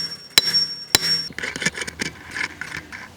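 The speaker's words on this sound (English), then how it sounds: "then tap it a couple of times with a hammer" A hammer taps twice on a steel farm gate hinge gudgeon, two sharp ringing metallic strikes close to the microphone, followed by softer clinks and handling knocks.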